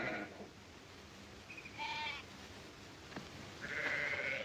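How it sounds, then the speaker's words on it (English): Several sheep bleat at intervals, faint and somewhat distant, each call a short wavering cry over quiet outdoor background. "help me get those sheep on the move."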